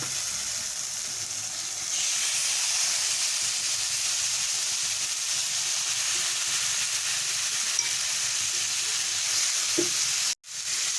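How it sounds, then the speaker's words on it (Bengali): Loitta fish frying in cooked spice masala, a close, continuous sizzling hiss that swells slightly after the fish goes in, with a brief stir or clatter near the end. "এবারে আমার মশলাটা কষা হয়ে গেছে এবারে আমি লইটা মাছগুলো এর মধ্যে দিয়ে দেব"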